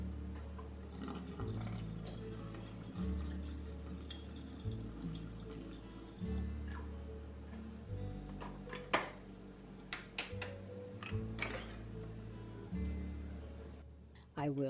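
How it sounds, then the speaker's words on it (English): Water drains from a can of green beans in a kitchen, a quiet trickle and dribble, with faint ticking and background noise and no speech. "I'm going to go ahead and get the water out of the can"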